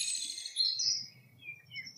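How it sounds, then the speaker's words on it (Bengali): A cartoon sound effect of birds chirping high in a treetop: a bright burst of quick tweets, then a few fainter calls over a quiet background. "গাছের মাথায় পাখিদের কিচিরমিচির ডাকে"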